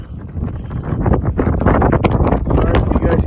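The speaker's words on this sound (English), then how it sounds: "It's a little windy up here." Wind buffets the microphone in heavy, rumbling gusts on top of a volcano at a cinder mine, low and continuous, loud and close throughout.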